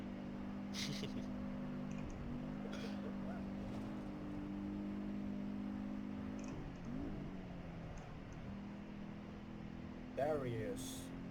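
Steady low engine drone inside a Porsche 718 Boxster while driving, with a brief rev change partway and people talking over it.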